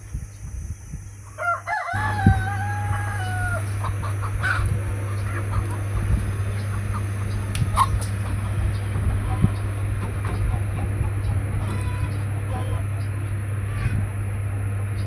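Chickens around a coop being built, with a rooster crowing near the start over a steady low hum and rustling background noise.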